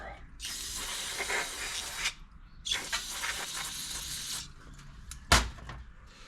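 Compressed air hisses in sharp bursts onto the carburetor of a Toro 22-inch Recycler lawnmower stored ten years: two long blasts, a shorter one, then a quick final puff, close and loud.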